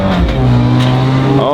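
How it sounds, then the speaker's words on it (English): A black Honda NSX passes at night near Ocean Beach, San Francisco, its engine note loud and close, a rising whine that swells as it goes by, with a voice speaking over it. "Oh, black NSX."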